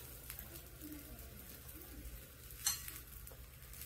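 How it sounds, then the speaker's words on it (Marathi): Potato, spinach and paneer patties stuffed with carrot and beetroot shallow-fry in a little butter, making a faint, steady sizzle with soft stirring and one brief metallic clink near the end. "आपण तो सर्व छान शॅलो फ्राय करून घेऊया"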